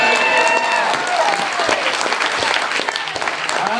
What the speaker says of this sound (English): Give the Lord a clapping shout of praise.